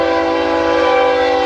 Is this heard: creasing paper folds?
no